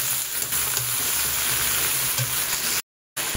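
Vegetables for puin chachra fry lightly with turmeric and salt, giving a steady soft sizzle with occasional stirring clinks, broken by a brief cut to silence near the end.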